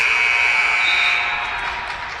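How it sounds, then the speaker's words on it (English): A basketball game buzzer blares in one loud, steady electronic tone lasting a couple of seconds inside a gym, fading slightly toward the end. "A buzzer went off"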